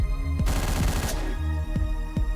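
Gunfire in the top-down action game Hotline Miami: a loud burst of rapid shots followed by a few sharp single reports, set over pulsing game music with no talking.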